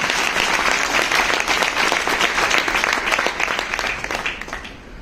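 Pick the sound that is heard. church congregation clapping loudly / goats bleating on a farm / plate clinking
church congregation clapping loudly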